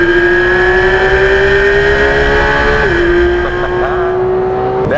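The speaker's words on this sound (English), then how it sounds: "When you don't have those turbos, you get that raw mechanical engine sound." A naturally aspirated Porsche 991 GT3 engine holds a loud, high revving wail, pitch sliding slightly before climbing again near the end, close and alone.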